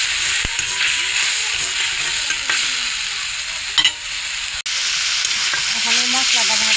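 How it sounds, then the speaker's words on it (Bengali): Ground spice mix of chili, turmeric, cumin and coriander fries in a pan with oil, a steady loud sizzle with scraping stirring strokes throughout and no talk. "এখানে মশলাটা ভাজা ভাজা হয়ে গেছে"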